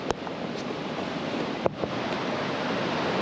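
Ocean surf rolls steadily onto the beach at Torrey Pines State Park in San Diego, a broad continuous wash with wind buffeting the microphone and a couple of brief knocks.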